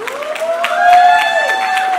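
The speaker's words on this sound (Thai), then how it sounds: "พวกเราขอเสียงปรบมือให้กับทุกคนที่ดาวกล่าวมาหน่อยค่ะ" A crowd at the Bangkok Pride 2023 parade applauds in a short burst of clapping, while a voice rises over the clapping.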